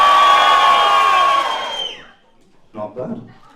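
A live comedy show audience lets out a loud cheer on a count of three that fades out after about two seconds; a brief voice follows.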